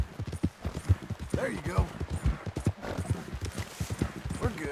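Horse hooves clip-clopping at a steady walking rhythm in Red Dead Redemption 2, close and moderately loud, while someone talks over them.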